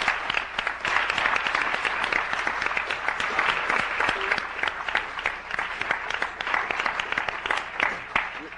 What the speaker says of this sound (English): maybe we could just give them a round of applause for the work that they do